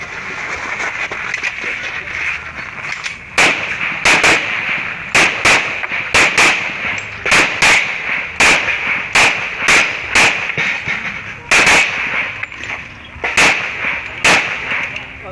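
Sharp gunshots crack out one after another at a shooting competition, loud and close, in irregular bursts with short gaps between them, over a low background hum.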